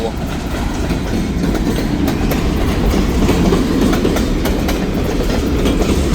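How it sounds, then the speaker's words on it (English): A freight train rumbles past close by, steady and loud, with wheels clacking rhythmically over the rails throughout. "It's got a train coming through."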